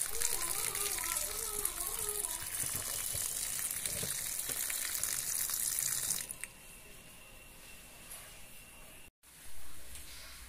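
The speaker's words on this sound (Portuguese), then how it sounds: "Agora a gente vai escaldar esse macarrão e jogar uma aguinha por cima dele." Water rushes over cooked pasta for garlic and oil spaghetti in a loud, steady pour that stops about two-thirds of the way through, followed by quieter kitchen noise and a short clunk.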